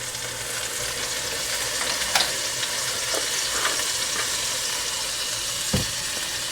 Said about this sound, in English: You're going to add 1 tablespoon of minced garlic.